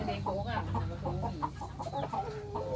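Farm chickens raised behind a rural homestead beside rice paddies cluck steadily and overlap one another in a busy, close flock chorus under faint background noise.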